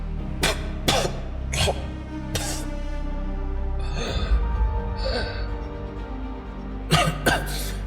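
A character in a Portuguese-language audio drama, wounded and spitting blood, coughs harshly several times in short bursts, close up, with a gasping breath between fits over a low dramatic background.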